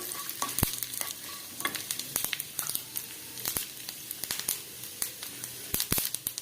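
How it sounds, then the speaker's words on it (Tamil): Mustard seeds and urad dal crackle and pop in hot oil for a home-cooked mixed dal, with irregular sharp snaps over a soft steady sizzle, close and moderately quiet, and occasional stirring scrapes. "கடுகு வெடித்து உளுந்து சிவக்கட்டும்."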